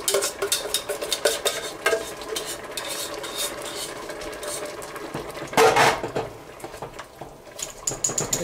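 A spoon stirs cheesy ham and potato soup in a boiling pot, giving close, irregular scraping and clinking against the pot with a brief louder scrape near the end.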